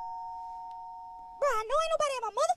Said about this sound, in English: Niggas really got the audacity to ring my doorbell, nigga.